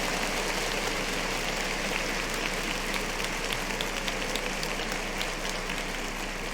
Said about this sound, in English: clap it up for another Kane